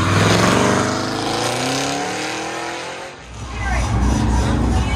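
A Corvette drift car in the sports car class at a Goodguys autocross, its V8 roaring loudly and steadily as it works through the course, revving up again near the end under a commentator's voice.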